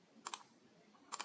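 Two quick pairs of crisp mouse clicks, close and quiet, sound while selecting bars in a chart on a computer, with a short pause between the pairs.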